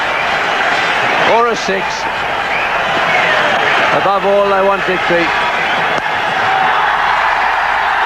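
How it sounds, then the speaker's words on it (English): Large cricket crowd roaring at Sharjah during India vs Australia, a broad constant cheer with a commentator talking over it. "Now they're cheering."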